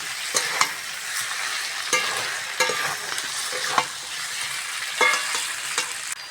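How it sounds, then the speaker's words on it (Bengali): Mrigal fish curry frying in a pan sizzles steadily while a spoon stirs it with repeated scraping knocks; the pouring of water is not distinct. "এইবার জল দিয়ে দেবো।"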